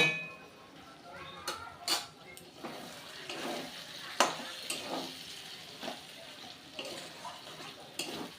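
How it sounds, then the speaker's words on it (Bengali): Capsicum is stirred in a pan with cashew and poppy seed paste, giving soft frying crackle broken by uneven scraping strokes and occasional clinks of a utensil on metal. "কাজু আর পোস্ত বাটা দিয়ে ক্যাপসিকামের সঙ্গে ভালো করে মিশিয়ে দেব"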